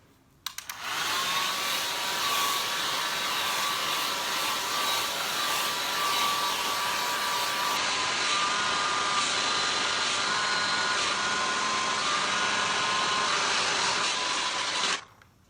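A handheld hair dryer blows steadily on wash day, drying freshly washed hair, switching on with a loud, constant whooshing whine that holds unchanged for about fourteen seconds before cutting off, close by with no talking.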